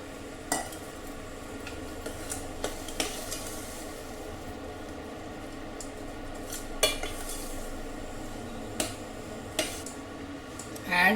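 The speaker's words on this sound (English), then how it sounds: "Mix everything well." A spoon stirs kalkandu rice, made with millet and milk, in a pan, giving faint scraping and light clinks at irregular intervals over a steady low background hum.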